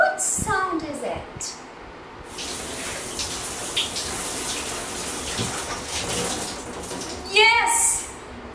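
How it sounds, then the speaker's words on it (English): A shower runs with a steady hiss of spraying water, with brief bursts of a voice at the start and end. "Yes, it's the sound of a shower."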